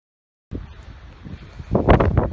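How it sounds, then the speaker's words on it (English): Gusty wind on the White Cliffs of Dover buffets the microphone as a steady low rumble, swelling into loud, roaring blasts toward the end; no voices are heard. "So if you can hear me over the wind"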